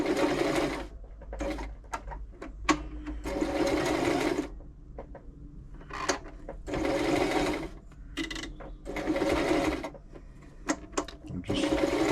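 A Toyota Oekaki RS2000 sewing machine stitches a buttonhole without a buttonhole foot, its needle whirring loudly in bursts of a second or two, separated by short pauses and faint clicks.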